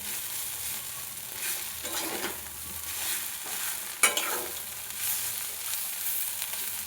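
Cauliflower kachori filling stirred in a pan over the flame, a soft continuous sizzle with scraping strokes from the spoon and one sharper clack partway through, quiet and close.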